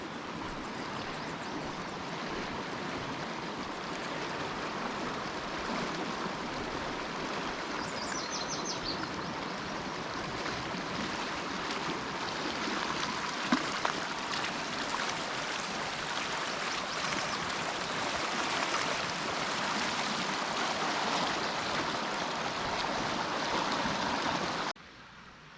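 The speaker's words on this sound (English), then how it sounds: "We get to hear the rushing water of the Yellowstone River." The Yellowstone River in Montana rushes by in a steady, broad roar of flowing water, running high and fast close at hand, unbroken and without voices until it cuts off abruptly.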